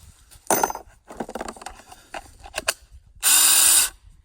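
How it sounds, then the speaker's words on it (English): A bolt on a battery chainsaw side arm being tightened with a ratchet, short bursts of clicking followed by a brief whirring buzz, close and loud, with no voices. "And then tighten the bolt again."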